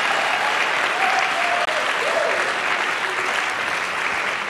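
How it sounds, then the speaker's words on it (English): Steady applause from a church congregation at a prophetic worship service fills the room, even and sustained throughout, with faint voices mixed underneath. "That clapping can be better if you are clapping for Jesus."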